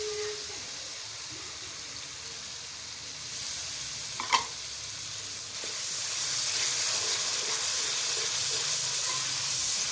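Yogurt hitting a pan of simmering pumpkin kofta gravy, giving a steady broad sizzle and hiss that swells louder partway through, with a brief clink of a utensil near the middle and no talking.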